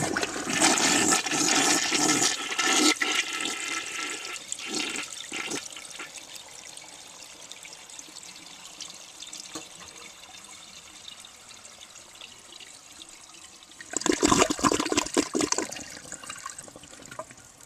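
Test flushes of a 1966 Mansfield Simplex toilet, a loud rushing flush at the start draining into a long gurgling trickle as the tank refills, then a second strong flush near the end, close and without talk.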